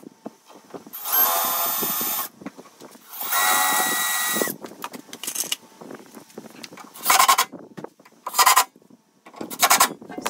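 A power drill drives screws to fix metal bands onto a wine barrel, with two long steady whirring runs followed by several shorter bursts, loud and close with handling clatter between them.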